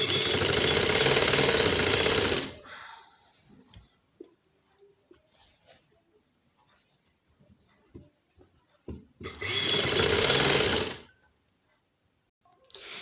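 Sewing machine stitching a straight seam on a fitted shalwar trouser, loud continuous whirring bursts of about two seconds at the start and again near ten seconds, with quiet handling noise between.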